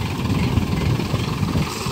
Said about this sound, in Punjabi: ਟਰੈਕਟਰ ਚੱਲ ਰਿਹਾ ਜੀ ਪਹਿਲੇ ਹਾਈ ਦੇ ਵਿੱਚ